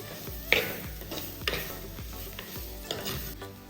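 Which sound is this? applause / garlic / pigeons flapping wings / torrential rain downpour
garlic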